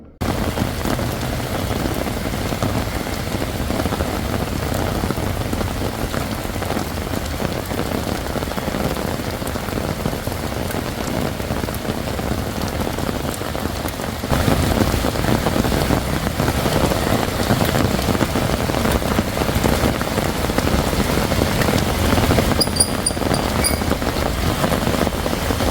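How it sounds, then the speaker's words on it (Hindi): Steady rain falls and patters on surfaces outdoors, a dense continuous hiss that gets louder partway through, with no voices. "वहां पे मैं आपको बारिश का भी एक डेमो करके दिखाता हूं कि बारिश में ये कैसे चलता है।"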